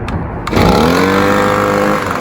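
An Echo gas-powered handheld blower engine catches on the first pull after a tune-up with new gas lines and a spark plug, then settles into a loud, steady, close idle drone.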